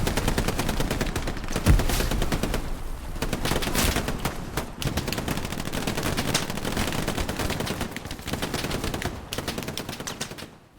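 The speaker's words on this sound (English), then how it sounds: "get that machine gun chattering" Machine gun chattering in a World War II online shooter battle on Utah Beach, dense sustained gunfire and explosions filling the whole stretch at steady loudness with no pauses.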